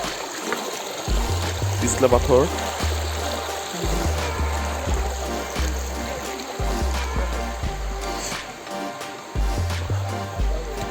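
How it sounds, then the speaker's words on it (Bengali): A rocky hill stream near Khoiyachora waterfall in Mirsarai rushes steadily throughout, close and continuous, while people talk over it. "ক্লান্ত হয়ে আমরা এই পাহাড়ি খাল বেয়ে ধরে ধরে উপরের দিকে যাচ্ছি।"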